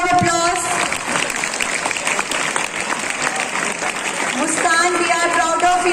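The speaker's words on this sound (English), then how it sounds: "A big round of applause." Students clap together at a school re-opening event, a burst of dense applause with crowd noise and someone talking over it.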